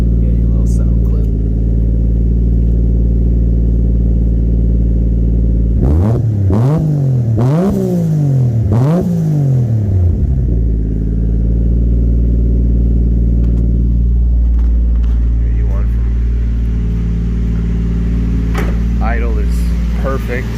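A Toyota MK3 Supra A70 with a swapped 1JZ-GTE engine and custom 3-inch TIG-welded stainless steel exhaust idles loudly, then revs sharply several times in quick bursts before settling back to a steady idle.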